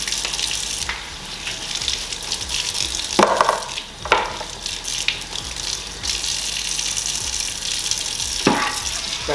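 Hot water runs and gushes steadily while an auger is scrubbed clean, with a few louder splashing bursts and scraping knocks over the continuous flow.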